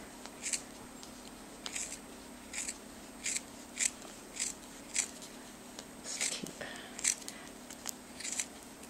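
Scissors snip repeatedly through wool pennies for a penny rug, about a dozen crisp cuts at an uneven pace, close up and fairly quiet.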